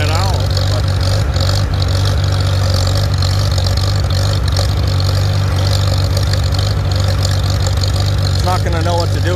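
A Farmall Super C tractor engine idles in a steady, loud, unbroken chug, with a voice talking over it near the end.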